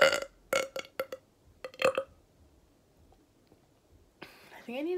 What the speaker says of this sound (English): check if I have a burping problem